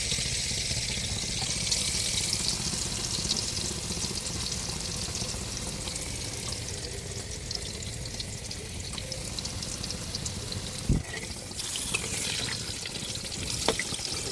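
Potato pieces fry in hot oil for a shrimp khichuri cooked outdoors by a Sundarbans river: a steady, dense sizzle holds loud and close throughout, with a couple of brief clinks near the end.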